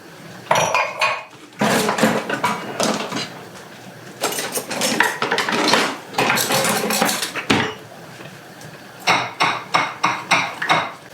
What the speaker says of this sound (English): So I'm just making a cornstarch slurry.